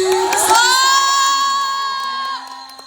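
Children cheer and shout together as a group, a loud burst of high excited voices that swells early and then tapers off over a few seconds, with no clear clapping standing out.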